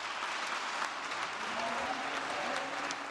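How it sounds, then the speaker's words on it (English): A crowd at a State of the State address gives a standing ovation, a continuous, even wash of many hands clapping, sustained and fairly distant, with faint voices mixed in. "Governor Gina Raimondo eliciting a standing ovation from the crowd"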